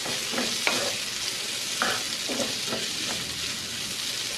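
Potatoes frying in a pan for a bacon and potato frittata give a steady, close sizzle, broken by a few scrapes or clicks as they are turned, with no talking.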